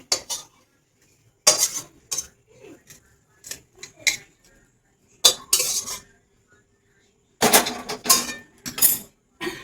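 Dried fish stir-fry scraped out of a pan, with bursts of metal spoon clinking and scraping against the cookware in short irregular clusters, loud and close, separated by near-silent pauses.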